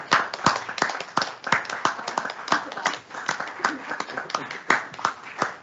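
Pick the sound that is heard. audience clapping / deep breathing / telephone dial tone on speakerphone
audience clapping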